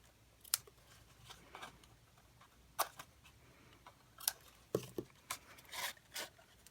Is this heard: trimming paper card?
yes